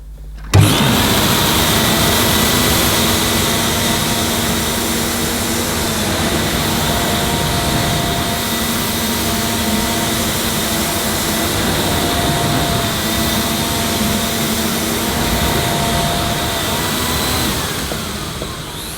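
A vintage Miele S224 vacuum cleaner with an electro power head runs on carpet, a loud steady motor drone that starts abruptly and holds for nearly twenty seconds with no talking.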